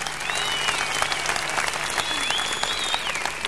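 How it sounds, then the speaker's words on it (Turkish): Dense audience applause at a 1990s concert, steady and sustained throughout, with scattered cheers and whistles rising over the clapping. "Esmera'yı alkışlarımızla uğurlarken"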